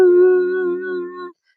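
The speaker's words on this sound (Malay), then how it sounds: "Anjing-anjing melolong tanpa sebab." A dog's drawn-out howl, loud and close, holds a steady tone for just over a second before cutting off into silence.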